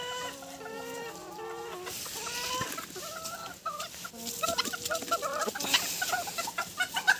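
Several crested chickens cluck and chatter nearby, with busy overlapping calls and occasional louder squawks.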